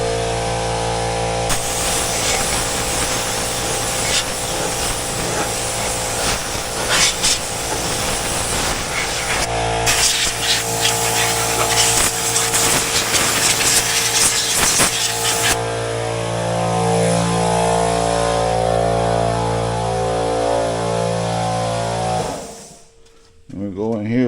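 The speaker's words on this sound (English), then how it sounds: "sorry to talk over the compressor" A compressed-air nozzle hisses in long loud bursts while air is blown over the engine of a Ranger 570 utility vehicle, with the compressor running underneath and someone talking over the noise throughout.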